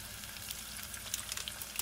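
Butter melting in a pan with marinated chicken wings, a soft continuous sizzle with light crackling spatters, fairly faint and brief, no talking.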